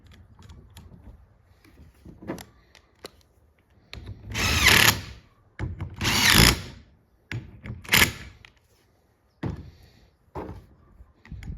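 A power tool drives bolts into the wiper motor bracket of a 2003-2009 Dodge Ram, running in three loud whirring bursts with ratcheting clicks and tool handling between them.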